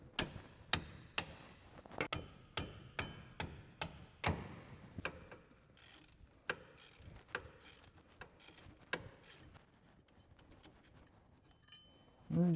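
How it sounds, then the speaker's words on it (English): Repeated sharp hammer blows on a wrench loosening 15mm brake caliper bolts on a CFMOTO CForce ATV, a steady series of metallic clanks about twice a second that slows and thins out, followed by a closer knock. "I just use a hammer to break them loose"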